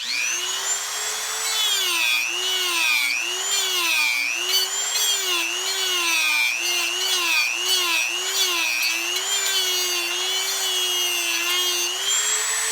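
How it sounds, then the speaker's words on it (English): Dremel rotary tool carving a wire trench into a wooden cigar box guitar, a loud continuous high whine that wavers up and down in pitch as the bit loads and eases, steady for the whole stretch with no talk. "And then I carve a little trench right here using the Dremel."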